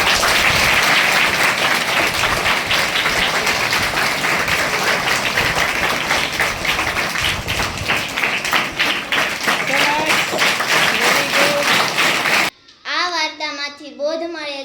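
Audience applause at a school play performed by children for a World Lion Day celebration, loud sustained clapping from a crowd that fades out, followed by someone speaking alone.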